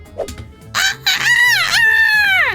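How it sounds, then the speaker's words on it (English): A rooster crows loudly and close by: a few short clipped notes, then a long drawn-out cock-a-doodle-doo that rises, holds and falls away at the end. "what about a rooster?"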